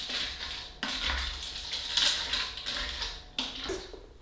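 Vegan chili mac and cheese stirred in a pot, with a spoon scraping and clinking against the metal in several close, uneven strokes and brief pauses between them.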